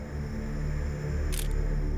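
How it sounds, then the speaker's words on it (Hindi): A camera shutter clicks once while a group photo is taken indoors, a short sharp snap standing out briefly over a steady low background hum. "ये फोटो खींचो फटाफट"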